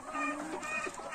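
Local chickens in a raised coop cluck softly in a few short, quiet calls, heard near and alone.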